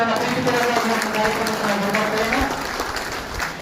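A crowd applauds at the closing ceremony of a civilian rifle training programme in Raybag, with a voice speaking over the clapping.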